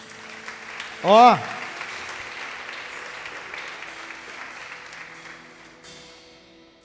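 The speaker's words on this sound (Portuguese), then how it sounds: "Você pode aplaudir a ele?" A church congregation breaks into applause during a service, with a loud shouted exclamation near the start over a steady wash of clapping that fades slowly toward the end.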